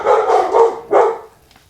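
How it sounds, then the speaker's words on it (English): A dog barks three times in quick succession, loud and near, and then the room falls almost silent. "I just spaced because Quinn's barking"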